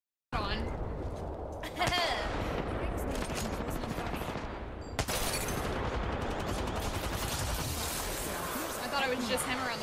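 Dense, rapid automatic gunfire from the Apex Legends battle royale game rattles nearly nonstop at close range, with a sharp burst near the start and another around the midpoint, while a player talks underneath.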